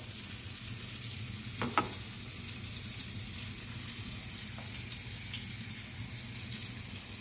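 Chicken breast frying in a pan, a steady low sizzle running throughout with a couple of brief utensil clicks near the start.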